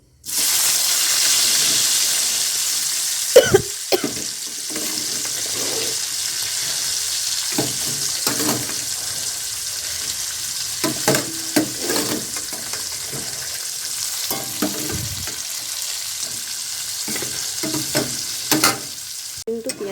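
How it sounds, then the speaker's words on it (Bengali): Chopped onion fries in a hot wok (kadai), a loud steady sizzle close by with scraping stirs and small clatters of a spatula running throughout, and no talking. "এবার আমি কড়াতে দিয়ে দেবো পেঁয়াজ কুচিটা"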